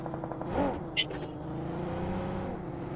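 A vehicle driven in the mobile battle royale game BGMI gives a steady, humming engine drone that runs the whole moment, with a short higher blip early on.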